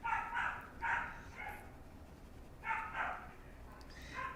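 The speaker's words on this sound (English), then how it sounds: "she's playing right now, but she's the loudest puppy" A playful puppy gives high, bright barks and yips in two quick bursts separated by a pause, fairly close under a low room hum.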